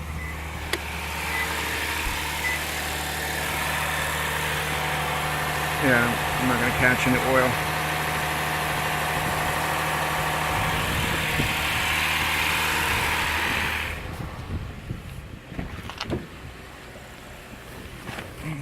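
A 2007 Lexus IS250 engine fitted with an oil catch can idles steadily and close by after starting, with someone speaking briefly over the hum before the engine note drops away near the end.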